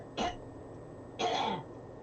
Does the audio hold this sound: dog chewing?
no